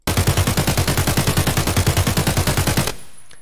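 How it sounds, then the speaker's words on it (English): Budget AK assault rifle in the video game Escape From Tarkov firing a rapid sustained full-auto burst of about twenty-five loud, evenly spaced shots while crouched, ending abruptly with a brief fading tail. "And right now I'm gonna crouch. I'll crouch, but I will still not be controlling recoil in any way."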